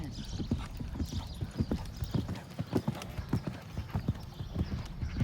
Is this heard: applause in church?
no